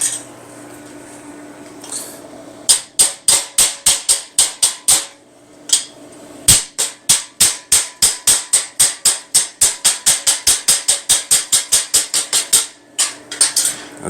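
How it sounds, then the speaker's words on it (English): Slag being chipped off a clean edge of metal cut with a Bestarc pilot-arc plasma cutter: dozens of sharp, close metallic taps in quick rhythmic bursts, with a short pause midway and no talking. "The slag chipped off really easily."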